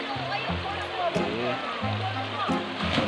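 A stream in Lazi, Siquijor, where people wash and bathe, rushing steadily close by; its continuous watery roar sits under a voice talking throughout.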